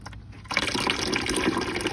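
Water from a rain barrel tap rushes into a container after a brief quiet start. The splashing fill is loud and close and continues steadily to the end.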